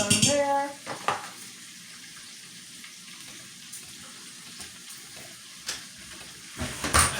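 Pork belly fries in a pan with a steady, broadband sizzle and crackle that runs throughout. A few brief clanks and bursts stand out near the start and end, and there is a faint hint of a voice at the opening.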